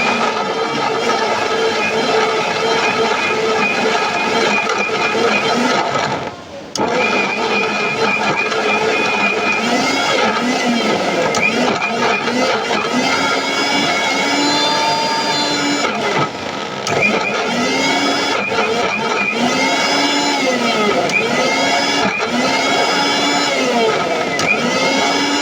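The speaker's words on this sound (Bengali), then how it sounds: "রসুন ব্লেন্ডার করে দেখেন কেমনে রসুন ব্লেন্ডার করতেছি।" An electric blender grinds garlic in a steady, loud whir that runs almost continuously, with one brief cut-out near the start and slight dips later as the motor load shifts.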